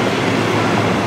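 A train rolls past in Germany, a dense, steady rumble of rail noise filling the short stretch at constant loudness, with no voices.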